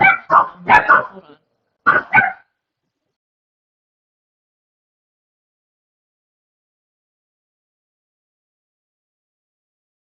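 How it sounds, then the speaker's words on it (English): Dogs bark in a few sharp, close bursts, two quick barks then a pair more after a short pause, followed by silence; a brief spoken phrase overlaps the barking. "They still bark."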